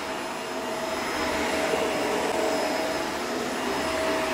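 A vacuum cleaner deep cleaning an Oriental rug with its bypass open, a loud steady whining roar close by that holds evenly for the whole stretch with no talking.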